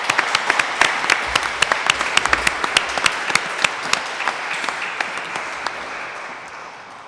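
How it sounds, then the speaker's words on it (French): Audience applauding after a municipal election debate on mobility and the environment, a room of clapping with sharp individual claps standing out, gradually thinning and fading away over several seconds. "je pense que ça vaut la peine de vous applaudir"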